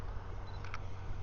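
Camera shutter taking a photo of cars on a street, a quick faint double click over a steady low rumble of background traffic.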